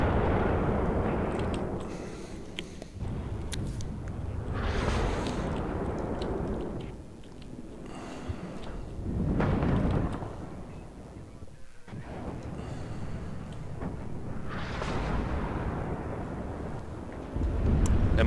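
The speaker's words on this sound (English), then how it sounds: "Artillery opens up over here." Artillery fire in the real-time strategy game Warno, with cluster and HE bombs landing amid a tank battle; dense, continuous rumbling booms and blasts swell and fade repeatedly across the whole stretch at loud level.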